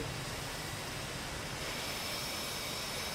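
A navy jet's engine roars in the DCS combat flight simulator, a dense, steady broadband whoosh of turbine noise, constant and loud with no voices.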